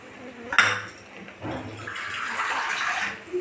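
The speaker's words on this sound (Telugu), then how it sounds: "ఇలా మూత మీద నీళ్ళు పోస్తే ఆవిరికి అది డ్రాపు పడుతుంది" Water is poured onto the lid of a cooking pot holding ponnaganti greens and moong dal curry: a sharp metallic clink, then a sustained close splashing trickle over the lid with no talking.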